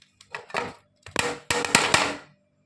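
Poli dough patted out by hand on a surface, several soft slaps and taps in three short bursts separated by pauses, close and clear.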